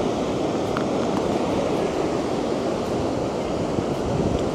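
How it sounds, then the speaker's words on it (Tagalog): Ocean waves at Petitenget Beach in Seminyak, Bali, a surfing spot, make a steady broadband rush of surf that goes on through the whole stretch with no break, mixed with some wind noise on the microphone. "Parang surfing area din pala to. So, magaganda din yung waves."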